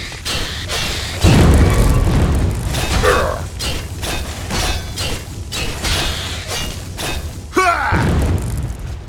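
Heavy booms and thuds as the player character is shot in the video game Oblivion, loud impacts recurring through the scene with brief vocal sounds among them.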